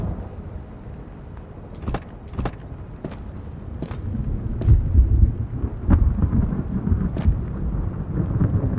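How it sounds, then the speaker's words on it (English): Deep, bassy thunder in the video game Road to Vostok, rolling low and heavy through a stormy scene, swelling louder midway and rumbling steadily with scattered brief clicks, with no one talking. "Really bassy thunder."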